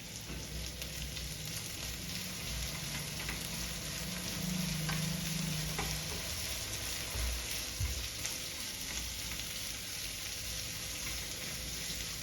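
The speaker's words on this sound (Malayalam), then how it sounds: "ഇതിലേക്ക് കുറച്ച് മഞ്ഞൾപ്പൊടി ഇട്ട് കൊടുക്കാം പിന്നെ ഉപ്പും ഇതൊന്ന് നന്നായിട്ടൊന്ന് മിക്സ് ചെയ്യാം" Bitter gourd tossed with turmeric powder and salt in a pan for a pickle, giving a steady low sizzle of frying with soft stirring scrapes throughout, no voices.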